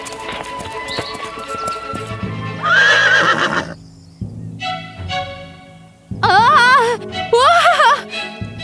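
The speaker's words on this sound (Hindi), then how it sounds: "ग्वेंडोलिन घोड़े पर सवार हुई और चल पड़ी" A horse neighs in several loud, wavering whinnies while its hooves clip-clop steadily beneath, the animal being mounted and ridden away in an animated fairy-tale scene.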